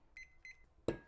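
A kitchen timer goes off during bread making, giving two short high beep bursts, each a quick double tone, followed by a brief louder clatter at the end.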